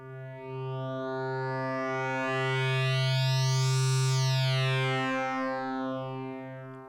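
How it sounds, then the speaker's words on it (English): A wave-folding oscillator on a Cre8audio East Beast synthesizer sounds a steady pitched drone alone, its bright, buzzy overtones swelling and folding upward to a harsh peak midway, then settling back toward a smoother tone. "And that's what a wave folding oscillator does."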